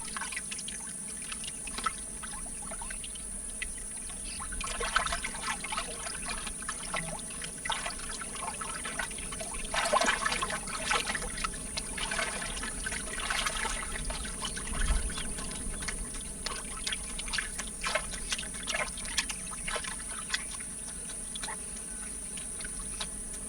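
A small Amazon stream trickles and splashes softly as capybaras cross to the far bank, a steady light water sound with insects chirping faintly in the background and no talk.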